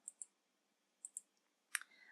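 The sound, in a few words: mouse clicking through frames on a computer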